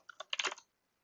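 A short burst of keystrokes on a computer keyboard while entering a terminal command, about half a dozen quick close clicks and then silence.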